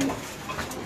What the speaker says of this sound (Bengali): সাদা বিউটি দেখেন মাশাআল্লাহ নট ডাকতেছে মাদি ভিতর